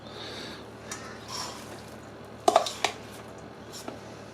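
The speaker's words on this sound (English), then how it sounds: "We're going to stuff it. Full of our delicious filling there." Samosa pastry cone, shaped like an ice cream cone, being stuffed with filling by hand: soft, quiet squishing and a few brief moist clicks clustered together, over faint background hiss.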